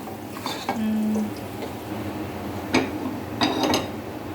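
Food sautés in a pan, a low continuous sizzle with clinks and scrapes of a utensil against the metal, plus a short tonal squeak, close up and with no talking.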